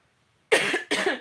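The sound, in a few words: coughing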